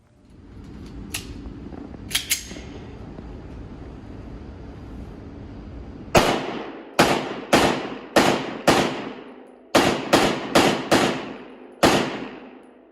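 Sig P320 X5 pistol firing ten sharp shots, the first as a single report and the rest in quick uneven bursts. Loud and close, heard outdoors over a steady background rumble, with two faint clicks early on.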